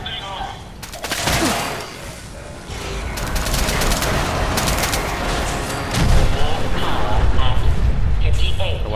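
Explosions in Fallout 4 gameplay, a chaotic barrage of loud booms and crackling blasts rolling one after another, with bursts intensifying near the end.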